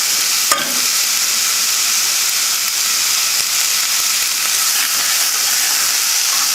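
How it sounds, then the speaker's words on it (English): Mirepoix browns in a hot pan for pork hock with Great Northern beans, a loud, close, continuous sizzle with a sharp clatter near the start and faint stirring scrapes throughout. "So we brown this mirepoix up here a little bit."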